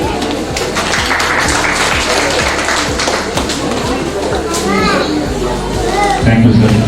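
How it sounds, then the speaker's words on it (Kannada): Applause rings out at a ceremony as an inaugurating DVSP officer is honoured and seated: steady, dense clapping from a crowd, mixed with chatter and children's voices, sustained throughout and swelling slightly near the end. "ಚಪ್ಪಾಳೆ."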